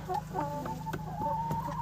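Chickens and roosters cluck and murmur close by while eating millet, a steady, busy chatter with brief sharper calls breaking through.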